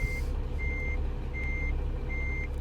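Reversing beeper on a Mack RD800 truck in American Truck Simulator, loaded with logs and backing up in a low reverse gear: a steady repeating high tone, about four beeps, over a loud constant diesel engine rumble.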